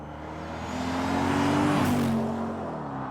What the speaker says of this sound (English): It also sounds good lower down. In fact, I'd say it's a stronger note down low, quite a big V8 rumble